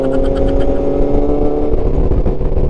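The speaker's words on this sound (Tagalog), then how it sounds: "Though maingay naman yung motor natin ha," A motorcycle engine drones steadily while riding along a long road tunnel, a loud, continuous hum with rumbling low tones and slight shifts in pitch throughout.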